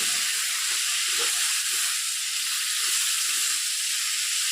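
Banana tree stem and meat frying in a pan, a steady broadband sizzle and hiss with faint utensil knocks now and then as the mix is stirred, close and continuous with no talk.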